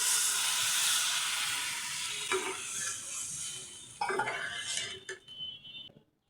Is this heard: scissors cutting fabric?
no